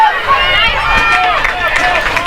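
Fans of Hunter Central cheer from the stands at a girls' high school soccer state championship game, a steady loud crowd roar and shouting that continues throughout, with no clear gaps.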